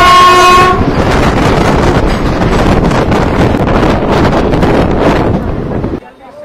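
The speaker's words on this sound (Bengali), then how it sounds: "আমাদের ট্রেন কিন্তু ইতিমধ্যে তমলুক ঢুকছে" A passenger train on the new Kolkata to Digha service pulls into Tamluk station, loud and close with rushing wheel and wind roar, a horn blast at the start, then a sudden drop near the end.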